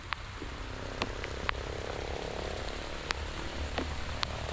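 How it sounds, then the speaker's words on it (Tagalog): Steady rain falls over a farm plot of crops, a continuous broadband hiss with scattered sharper drips and taps, moderately loud and close, with no talk. "ay ulan"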